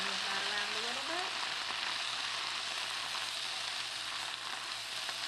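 Swiss chard sizzles and fries in a pan after apple cider vinegar is added. The sizzle is soft and constant, with a faint stir near the start and no speech.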